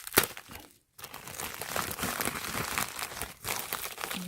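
Hands unwrap a bubble envelope package holding a glass screen protector order, making close, continuous crinkling, crunching and tearing of plastic and padding with a short pause partway through.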